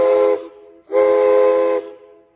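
A model train's steam whistle at a train show sounds in two blasts, a short one followed by a longer one, a bright chord of tones mixed with breathy hiss, loud and close.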